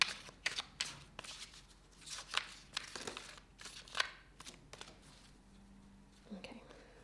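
Oracle cards are shuffled close up in a string of crisp, papery riffles and slides, with soft whispering mixed in.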